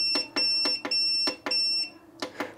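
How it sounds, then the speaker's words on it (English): A GroWatt inverter sounds a repeating alarm of sharp electronic beeps, five evenly spaced pulses followed by a brief gap and two more, loud and close with no talking. "We're gonna have to get rid of this beep too."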